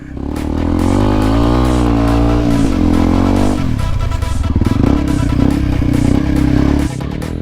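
An enduro motorcycle climbs off-road as its rider holds the throttle, the engine droning loud and close with rising and falling revs, then settling into a rough, clattering pull at steady power.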